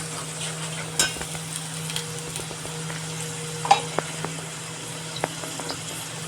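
Ground masala paste fries in oil for a chicken gravy, a low steady sizzle with scattered pops and crackles and a few light utensil taps, close by and without speech.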